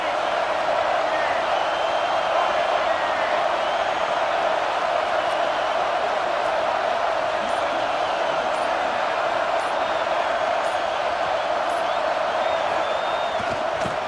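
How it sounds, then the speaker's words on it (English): Steady stadium crowd roar from a football video game, a dense continuous wash of cheering and chatter holding at one level for the whole stretch with no breaks. "This crowd trying to make life miserable for this offense"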